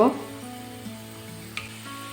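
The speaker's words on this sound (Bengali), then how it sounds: "অল্প অল্প করেই ভেজে নিব" Small flour-dough snacks fry in gently heated oil in a pan, a steady soft sizzle running throughout with a brief bubbling burst at the start and a small clink midway.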